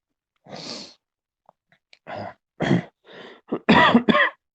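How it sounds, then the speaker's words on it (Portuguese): Several separate coughs, near and fairly loud, a harsh burst followed by a cluster of shorter hacking coughs, with brief pauses between them. "Perdão, tô meio com uma tosse."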